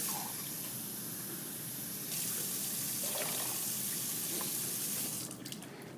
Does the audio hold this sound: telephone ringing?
no